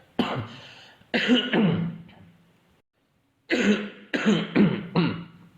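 Two fits of harsh, throaty coughing close to the microphone, a few rough bursts each, separated by a brief silence.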